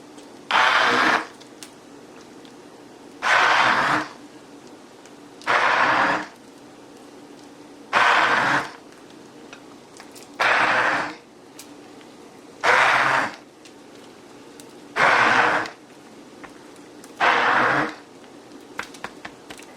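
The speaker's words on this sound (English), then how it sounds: "I'm going to take a stick blender, and I'm just going to stick this down into the soup, and I'm going to give it a couple pulses." A stick blender pulses in potato soup in a home kitchen, eight loud bursts of whirring motor roughly every two to three seconds, each about a second long, separated by quiet gaps.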